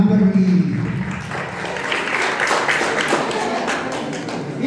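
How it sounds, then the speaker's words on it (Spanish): Crowd applause at a quinceañera celebration for Walter and Amberly, a steady wash of many hands clapping that holds for several seconds, with a brief voice at the start. "fuerte voto de aplauso para Walter y de Amberly"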